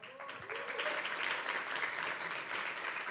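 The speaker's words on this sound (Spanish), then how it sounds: "Y la gente le aplaude a Raciel" Crowd applause in a lucha libre wrestling arena for the wrestler Raciel. A voice is heard briefly at the start, then a full, even roar of clapping swells and holds.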